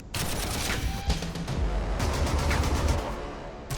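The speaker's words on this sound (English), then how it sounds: "That was some big artillery thing there. I think it was a thunder cannon." Thunder cannon artillery fire in the strategy game Warhammer 40,000: Armageddon, a dense rolling barrage of booming, crackling blasts that run together for several seconds, loud and with no talk over it.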